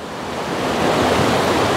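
River water from the Quay Son River in Cao Bang, Vietnam, rushes through a wooden water wheel, a loud, steady broadband roar that swells slightly and carries no voices.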